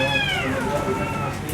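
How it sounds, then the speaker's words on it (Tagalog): Cats fighting in a busy market let out a loud, wavering yowl that slides down in pitch, close by, with a voice underneath. "may nag-aaway na pusa"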